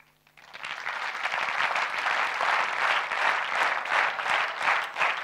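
A large audience at a corporate talk by a marketing head applauds, with dense, steady clapping that rises quickly and holds loud and even to the end.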